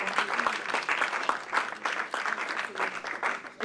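A church congregation at a French-language Wednesday Bible-teaching service claps together, producing dense, steady applause that runs unbroken and fairly loud throughout.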